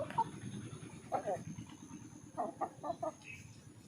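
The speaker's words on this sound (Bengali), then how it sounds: "এই যে মুরগির জন্য খাবার আনলাম এবার দেব মুরগিগুলোকে" Chickens clucking at feeding time; short clucks come in brief clusters near the start and a run of quick clucks later, moderately close over a quiet background hum.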